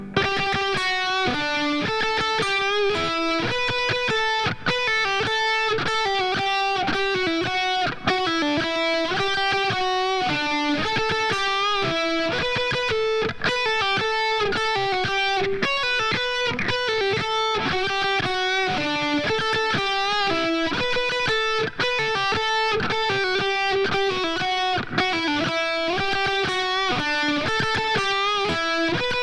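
A distorted electric guitar plays a slow harmony melody, steady notes in a continuous line, loud and close, with no talking.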